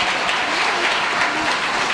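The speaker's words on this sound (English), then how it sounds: "let's give them a big round of applause" A school audience gives a big round of applause for a military family whose father was deployed in Iraq, dense continuous clapping at a steady level.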